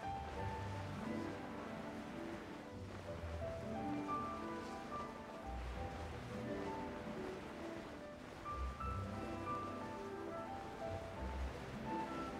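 A waterfall in the video game Genshin Impact rushes continuously at moderate level, with a steady broadband wash of falling water under soft tonal game music.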